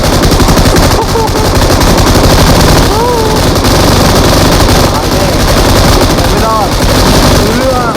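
Rapid machine-gun bursts and gunfire from PUBG Mobile crackle loudly and continuously around a two-storey house, with someone talking over the shooting.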